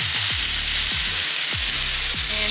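A bison steak seasoned with steak rub fries in a pan, giving a steady, loud sizzle with no voices.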